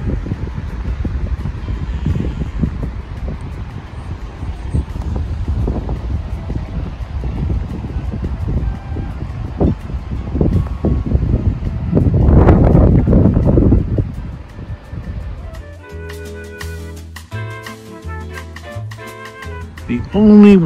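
Wind rushes through trees in a steady, gusty whoosh with microphone buffeting that swells louder midway, then gives way to music near the end.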